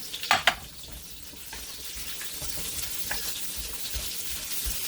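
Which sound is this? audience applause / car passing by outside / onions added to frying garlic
onions added to frying garlic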